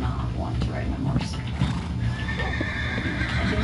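A Minecraft horse in the video game gives a loud neigh and whinny along with clip-clopping hooves while a person talks over it.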